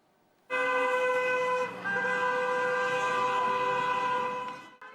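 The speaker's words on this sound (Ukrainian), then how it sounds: "гул автомобільних сигналів" A sustained, loud horn blast from a vehicle holds steady for about four seconds at a rally on the central square of Cherkasy, sounding alone with no voices.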